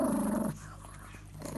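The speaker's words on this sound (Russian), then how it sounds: "Злая собака. Прям пес." A small dog growls low and rumbling while gnawing a boiled cartilage bone, the close growl loudest at first, then softer and quieter.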